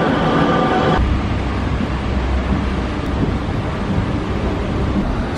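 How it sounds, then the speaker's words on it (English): Steady rumbling and rattling of a light rail train in motion in Kuala Lumpur, with a tonal whine in the first second before settling into continuous rolling noise. "So that was a pretty quick 5 minute journey on the LRT."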